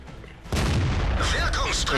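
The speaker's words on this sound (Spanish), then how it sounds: "Un buen disparo, T-127. Prácticamente le quita un tercio de la salud al tanque." A tank cannon shot from a T-127 in the World of Tanks video game booms out loud and close at the half-second mark. A dense, sustained rumble of battle noise follows it.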